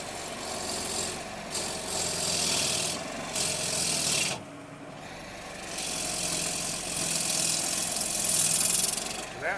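A woodturning gouge taking a big shaving off spinning wood on a lathe, a loud continuous rasping scrape in long sustained passes with brief pauses between them, a voice faintly underneath.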